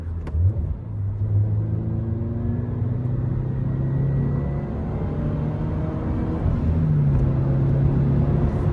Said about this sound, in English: my exhaust is purring big time. You wanna hear a little pull action?